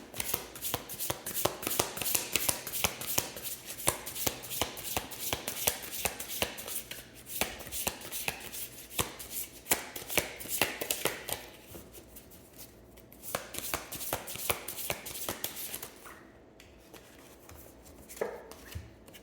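Tarot cards shuffled by hand in a steady, riffling stream of rapid papery flicks that thin out and grow softer toward the end, close and alone with no talking.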